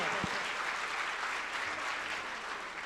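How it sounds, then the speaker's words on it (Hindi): Audience applause at a live Jain religious discourse, a steady wash of many hands clapping throughout, loud and continuous, with a brief thump near the start. "जरा तालियां बजा दो इसी बात पर"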